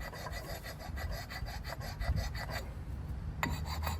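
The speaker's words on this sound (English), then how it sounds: "I'm just gonna hit this with the same sanding stone, just on the edges here." Sanding stone rasping steadily along the edges of a brake rotor on a 2016 Chevy Silverado 1500, a continuous close gritty rubbing with a sharper scrape near the end.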